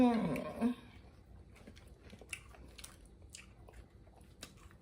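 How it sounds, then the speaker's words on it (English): Round tortilla chips for taco nachos are bitten and crunched close to the mic, with a voice murmuring briefly at the start, followed by soft, scattered chewing crunches that continue quietly. "Ooh, one more bite. And these little round chips."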